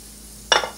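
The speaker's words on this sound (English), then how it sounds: "Y'all hear that sizzle?" After a brief quiet hum, a sudden close crackling hiss erupts and fades slightly as butter hits a hot griddle and sizzles.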